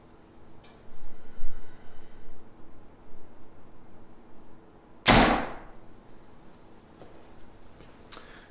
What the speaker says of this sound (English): we'll shoot it through the chronograph and see what we get